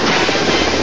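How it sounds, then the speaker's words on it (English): A cartoon helicopter out of control, a loud continuous rotor and engine roar filling the whole short moment. "That helicopter's out of control!"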